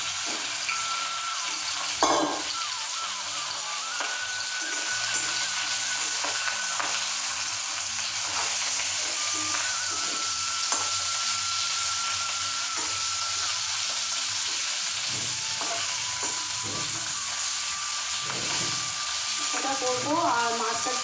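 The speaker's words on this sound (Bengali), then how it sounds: "কালকে কপিস মাছ ছিল একটু তেলে একটু ভেজে নিই ভালো করে" Fish fries in hot oil in a home kitchen, giving a long, steady crackling sizzle with occasional stirring clatters and faint background sounds, close and even throughout.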